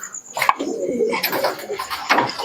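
Pigeons kept in an indoor room on a rainy night coo softly and repeatedly, several low murmuring calls overlapping at close range, with some brighter rustling and faint movement between calls.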